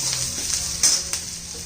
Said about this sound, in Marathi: आता त्याच्यामध्ये मी लसूण घालते बघा हा गावठी लसूण आहे